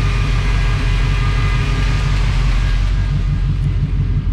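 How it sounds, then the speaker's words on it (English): A V8 engine swapped into a VW van idles steadily from the rear, a continuous loud low rumble with a faint repetitive lifter tap riding over it, exhaust flowing out nearby. "You can hear that one lifter tapping."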